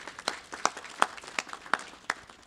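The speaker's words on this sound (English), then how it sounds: "Round of applause for her." Sparse applause follows a presentation on South Africa's Labour Amendment Act at a seminar, a few distinct, fairly faint claps spaced irregularly across the room.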